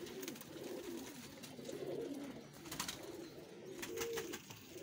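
Pigeons cooing in a loft in Faisalabad, with soft repeated low coos rolling one after another close by, with faint clicks and rustling behind them.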